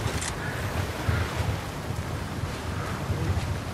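Swimming through water in Fortnite gives a steady, close rushing wash of water and low rumble that goes on without a break, with no distinct splashes.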